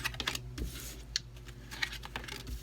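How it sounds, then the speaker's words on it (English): Tarot cards are shuffled on a table in quick, soft riffling bursts and taps, close and fairly quiet, with no talking. "shuffling one more time."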